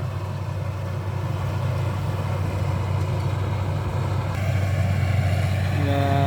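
A tractor engine runs steadily during a paddy harvest, a loud, constant low rumble with a slight change in tone near the end and no clear speech.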